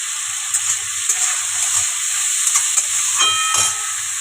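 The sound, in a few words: potatoes sizzling with grated ginger and tomato added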